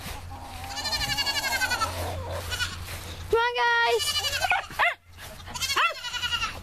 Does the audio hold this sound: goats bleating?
yes